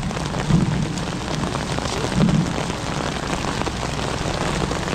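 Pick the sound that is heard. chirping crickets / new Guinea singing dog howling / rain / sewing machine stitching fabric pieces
rain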